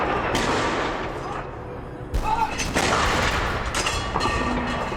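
Heavy booms of cannon fire at the Tower of London roll out one after another, loud and reverberant, over a dense rumbling background.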